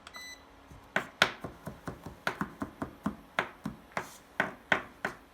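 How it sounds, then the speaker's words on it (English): Knife chopping garlic on a cutting board in a home kitchen, a steady run of about twenty sharp close taps in uneven rhythm, with no voices. "we are just going to get our garlic chopped up here"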